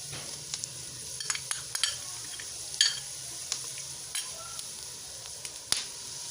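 Steady sizzling of ginger garlic paste frying in a pan, with scattered clicks and scrapes of stirring over a low background hum.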